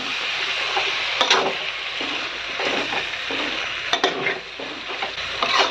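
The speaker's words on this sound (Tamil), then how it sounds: "இப்போ வந்து நம்ம கிளறி விட்டு பார்ப்போம்" Brinjal frying in oil for mochai kuzhambu, a continuous close sizzle broken by repeated scraping stirs and light knocks of a ladle against the pan.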